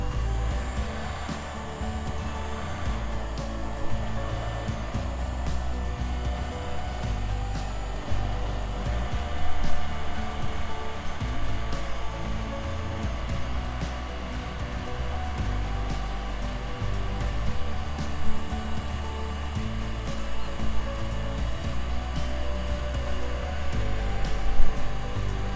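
A heat gun warms a Samsung Galaxy S8 to loosen its glass screen, giving a loud, steady, close blowing roar that runs without a break and with no voices.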